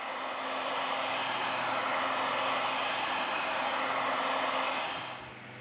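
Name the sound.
heat gun warming LG K61 phone to remove battery cover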